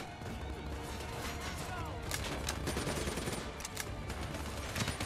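Rapid automatic gunfire from Call of Duty Black Ops 3 fills the scene in dense, continuous bursts with sharper cracks later on, loud and busy with game sounds layered underneath.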